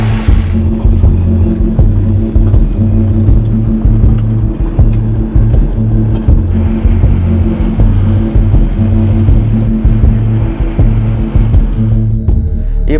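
A hired car, borrowed from an acquaintance, drives steadily with a continuous loud engine rumble and road noise throughout, the steady drone holding at close range without pause.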